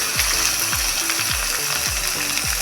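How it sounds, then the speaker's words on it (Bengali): Ginger and tempering spices frying in a pan for stuffed pointed gourd, with a loud, bright sizzle and a rhythmic scraping or stirring sound repeating about twice a second, no voices. "আমি একটু এইভাবে ভালো করে ভেজে নেব।"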